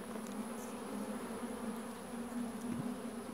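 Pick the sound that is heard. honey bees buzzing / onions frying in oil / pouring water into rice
honey bees buzzing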